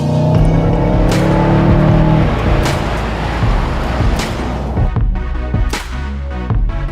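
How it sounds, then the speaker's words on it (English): A Mercedes-Benz CLA accelerates hard with a loud, close, rising engine roar that holds steady. Brief gear-shift breaks and clicks come later, and nobody speaks. "you can just plant your foot in any gear and it just squats and goes."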